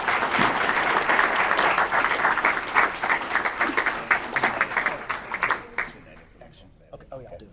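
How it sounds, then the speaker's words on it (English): A luncheon crowd applauds loudly, a dense wash of clapping that gradually thins into scattered individual claps before fading out. "another round of applause for our wonderful Lieutenant Governor"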